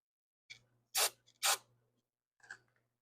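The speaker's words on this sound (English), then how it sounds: "Spray carb cleaner up in here." Carb cleaner from an aerosol can sprayed into the carburetor of a WEN 2000W inverter generator: three close, sharp hissing bursts, two strong ones in quick succession and a lighter one after, in a quiet room.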